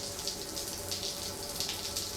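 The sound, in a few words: shower running in Death Stranding video game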